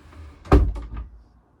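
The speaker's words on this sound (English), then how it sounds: "Did you open the front door?" A front door in a house opens or closes with a single dull thud followed by a brief rattle, fairly close and alone, fading quickly.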